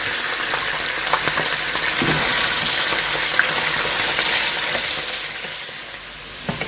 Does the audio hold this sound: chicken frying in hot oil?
yes